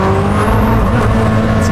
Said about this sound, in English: It's crazy how fast the response is, even for a turbocharged car.